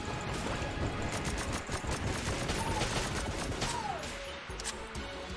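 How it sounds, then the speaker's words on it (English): The strafe gun in Enter the Gungeon fires in rapid, uneven bursts, close and loud among clattering game effects. "Feels like the strafe gun has a weird rate of fire right now"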